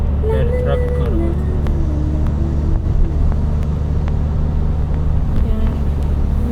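Steady road traffic rumble heard from inside a moving car, a constant low engine and tyre drone with a person talking over it throughout.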